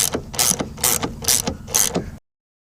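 Rapid ratcheting clicks come in about five quick bursts as a wrench backs Loctite-secured rear seat bolts out of a RAM truck. The sound is close and crisp, then stops suddenly.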